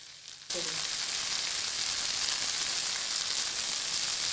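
Egg for an egg and lady's finger curry cooks in a pan, a loud, steady hiss of sizzling oil that starts abruptly and continues unbroken, close and without talk.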